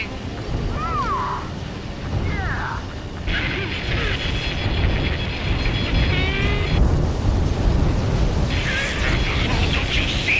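Booming explosions as a rail cannon is destroyed in Ace Combat 7 rumble continuously under energetic game audio, with sweeping synth tones and chirps layered over a dense low-end roar.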